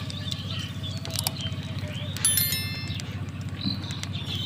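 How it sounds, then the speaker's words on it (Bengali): Black cumin (nigella) seeds crackle in hot oil for a low-oil dhaba-style egg curry, a dense, steady patter of tiny pops that continues throughout with a few faint higher tones above. "এবারে এই তেলের মধ্যে আমি দিয়ে দেব কালো জিরে"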